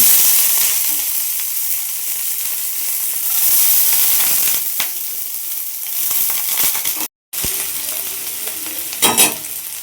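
Beans frying in a pan for a homemade corn chaat, a steady close sizzle with stirring scrapes, a brief dropout near the end and a few sharper crackles afterward, with no talking.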